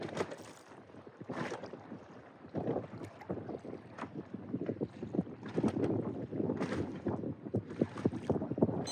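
Gusty wind buffets the microphone outdoors on open water during spin fishing, rising and falling in loud rushes, with faint water sounds and no one speaking.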